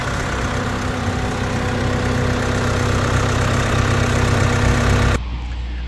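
A 2024 Mercedes-Benz Sprinter 2500 AWD's high-output inline-four twin-turbo diesel idles steadily, a loud, dense rumble with a constant low hum that continues unchanged before dropping in level near the end.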